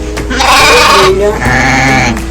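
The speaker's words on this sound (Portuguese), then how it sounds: "ovelha" Sheep bleating twice in quick succession, a loud, close, wavering cry, the second call slightly lower and shorter.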